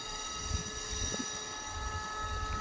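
Train hauled by locomotive QSY 5221, a special service with a faulty engine, idles at Lopburi railway station with a steady diesel hum, faint distant clanks and station ambience.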